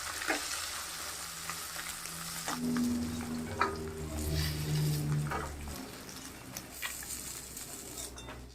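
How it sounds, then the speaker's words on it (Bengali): Fish sizzles in hot mustard oil in a wok, with steady crackling frying, occasional utensil clinks and a brief burst of louder spattering midway. "তেলটা গরম হয়ে গেছে, আমি মাছ ভাজাটা বসাই দিচ্ছি।"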